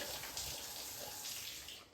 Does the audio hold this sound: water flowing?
yes